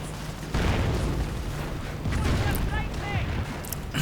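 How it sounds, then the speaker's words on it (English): Rocket barrages slam into commando infantry in a WWII real-time strategy game, a dense run of booming blasts and crackling fire layered with battlefield clutter throughout. "Commandos getting blasted with rockets, getting suppressed a bit."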